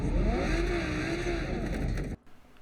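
A car engine revving and pulling in Cyberpunk 2077, a loud, steady motor whine with rising and falling pitch close by, which cuts off abruptly near the end to leave quieter scattered noise.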